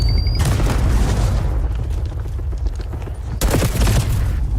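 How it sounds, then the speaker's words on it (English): Frag grenade blast in an online shooter game, a loud booming explosion with dense crackling debris that rolls on for several seconds, then a second sharp burst near the end, no talking over it. "Incoming frag!"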